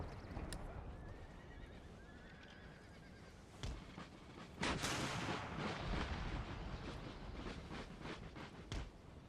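Cavalry horses in the Empire Total War video game neigh and whinny amid steady hoof clatter, with bursts of cannon and musket fire rising over a busy battlefield din.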